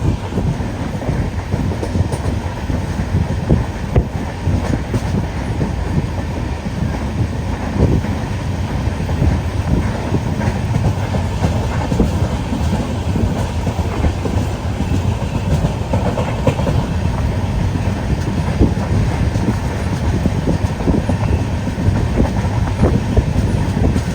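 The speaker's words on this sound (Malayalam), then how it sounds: "ട്രെയിൻ ഇതാ തൃശ്ശൂർ റെയിൽവേ സ്റ്റേഷനിലേക്ക് എത്തിയിരിക്കുകയാണ്." Netravati Express, a long-distance sleeper train, rolls steadily into Thrissur railway station, a continuous loud rumble of wheels and carriages with clickety-clack rhythm throughout, no voices.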